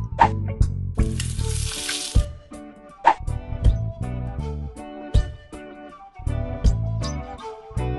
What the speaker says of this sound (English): Waffle iron.